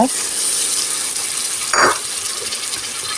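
Steady sizzling of egg masala frying in a pan, with a brief soft rustle and plop as blended cashews and almonds go in, no talk.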